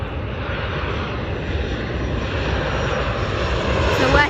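A WestJet Boeing 777 airliner in a special Frozen livery, heard at an airport as a steady, loud engine roar with broadband rush that swells slightly toward the end.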